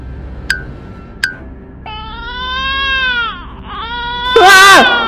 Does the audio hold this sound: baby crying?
yes